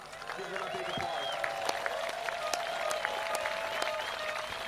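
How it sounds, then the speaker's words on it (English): A crowd at the opening ceremony of a world paddleboard championship applauds volunteers, scattered clapping rising over an amplified voice that keeps talking throughout. "Give them a big applause"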